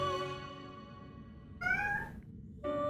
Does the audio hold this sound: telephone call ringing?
no